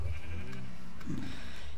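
A single short bleat from a video-game sheep sounds midway through, on a busy farm of sheep and cows, against a quiet low hum.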